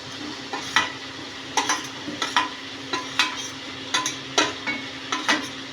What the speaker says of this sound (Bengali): এবারে এই মশলার সঙ্গে চিংড়ি আর পটলটা কষে নেব।